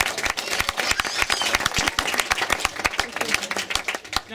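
Wedding guests clapping for a young page boy during a best man's speech, a dense burst of applause with sharp individual claps standing out, sustained for several seconds.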